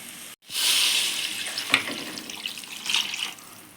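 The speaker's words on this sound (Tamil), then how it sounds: "தண்ணி தேவையான அளவு தண்ணி ஊற்றிக்கலாம்" Water pours steadily into a pot of chapati kurma curry, a close, continuous splashing rush lasting a few seconds with slight swells, heard alone without talk.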